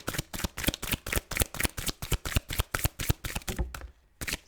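Tarot cards shuffled in quick, rhythmic bursts of close, crisp flapping and riffling that continue for several seconds before stopping briefly, with no speech.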